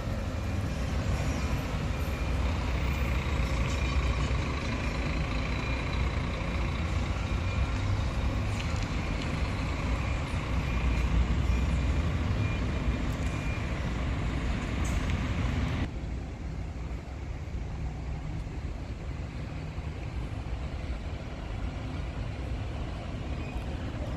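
A Viação Cometa bus pulls out of the Ribeirão Preto bus terminal, its engine a loud steady rumble that holds throughout, then drops slightly in level about two-thirds of the way in.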